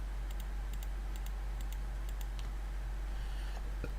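Keyboard keys and mouse buttons click in light, quick pairs during shift-clicking on a computer, faint and close over a steady low hum, with a sharper click near the end.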